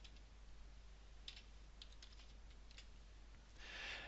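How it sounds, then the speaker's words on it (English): Quiet typing on a computer keyboard: irregular bursts of light key clicks over a steady low hum, with no talking. "I'm going to type that in."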